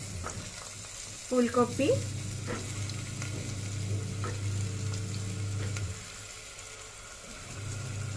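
Potato, cauliflower and carrot pieces frying in hot oil in a pan, a steady faint sizzle with short stirring scrapes and a brief spoken word over it.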